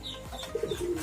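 A pigeon coos in a short series of soft, low notes among birds kept by a Purwakarta breeding team, close by with faint bird calls in the background.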